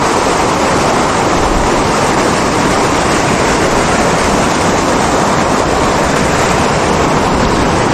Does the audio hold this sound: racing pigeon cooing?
no